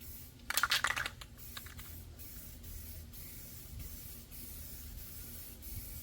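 An aerosol can sprays camouflage paint onto a rifle in a short hissing burst at close range. Fainter scratchy handling noises and a low background hum follow.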